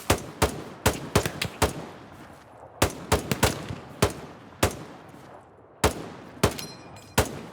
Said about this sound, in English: So now we're going to demonstrate proper suppressive fire